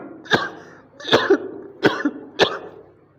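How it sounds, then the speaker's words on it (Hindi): A man coughs four times in a row, each a sharp, close burst with a short rough tail, evenly spaced with no talking. "ये तो मेरे तो नॉर्मल खांसी है"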